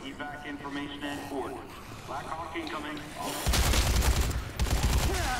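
Gunfire aimed at soldiers in Dead Rising 3 breaks out midway as loud, rapid bursts of shots, after a stretch of game sounds with someone speaking French over them.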